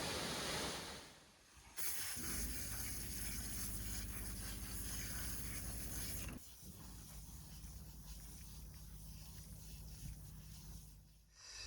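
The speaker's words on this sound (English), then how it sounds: "this waterfall is a magical creation of nature, complete with its unending symphony" Catrigg waterfall in a deep gorge in the Yorkshire Dales pours in a steady broadband rush, loud and close, shifting level at cuts as the view changes, with no voices.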